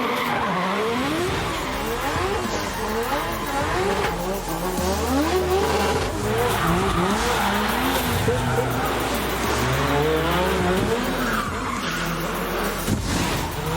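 Drift cars at the D1NZ Drifting Championship at ASB Showgrounds skid and slide around concrete walls, engines revving hard with continuous loud tire squeal, up close and sustained.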